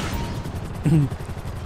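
Explosion in GTA V, a short muffled boom bursting out midway through a background of steady game noise.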